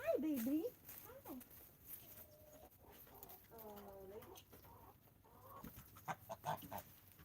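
Chickens cluck and squawk close by in a backyard coop, mixed with other faint bird calls and rustling, with someone talking to them in between.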